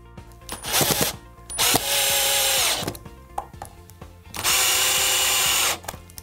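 A power drill drives screws into pallet wood for a coffee-table leg clamped to a workbench: three loud, close whirring bursts, the longer ones rising and holding steady, separated by short pauses and clicks.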